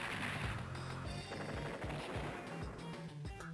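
Rapid rattling gunfire from an attack on a tank in the turn-based strategy game Advance Wars 2, a sustained burst of repeated shots over a thumping game soundtrack.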